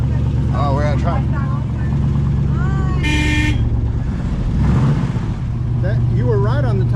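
A 1968 Plymouth Road Runner, just revived after sitting parked 38 years, idles with a steady low rumble beneath several people talking, with a short horn-like tone midway.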